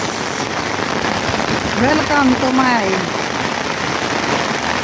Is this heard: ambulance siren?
no